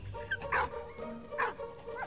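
A dog gives two short, sharp barks about a second apart, fairly close, over a low steady background hum.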